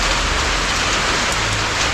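Steady rain falls during the summer storm season in Laos, a dense, even hiss of drops pattering on surfaces throughout, with no voices over it.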